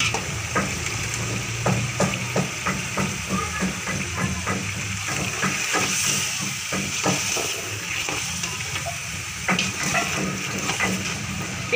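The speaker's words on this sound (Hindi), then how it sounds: "इसको हम तकरीबन 10 मिनट तक भूनेंगे इस गोश्त को" Meat (gosht) fried and stirred with a spoon in a pot, a continuous loud sizzle and hiss with repeated scraping strokes of the spoon throughout.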